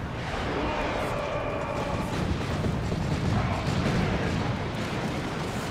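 Heavy Ork boom gun fire in Dawn of War 2, a continuous rumbling barrage of low booms and battle noise with distant effects layered over it, steady and dense throughout.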